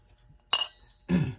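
Glass and metal rim from a c. 1948 Ingraham mantle clock being handled: a sharp glassy clink followed half a second later by a duller clattering knock, close and alone in a quiet room.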